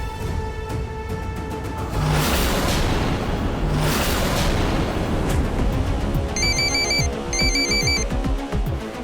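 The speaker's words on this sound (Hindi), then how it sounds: "मोंटू भैया का फोन" A phone ringtone repeats with a two-part chiming pattern over loud background music and rumbling effects, no speech.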